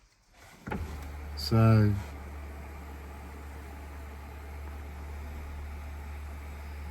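Electric sunroof motor on a GWM Tank 500 whirring as the roof opens, a brief rising hum over a steady cabin drone, with someone speaking briefly.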